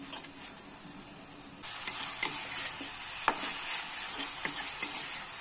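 Chopped jackfruit pieces sizzle and fry in a pan, with a steady hiss that grows louder partway through and repeated spatula scrapes and stirring knocks over it, no talk.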